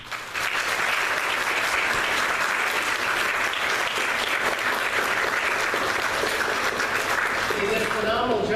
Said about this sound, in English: give a nice round of applause to all of the leaders of the VBS crew this year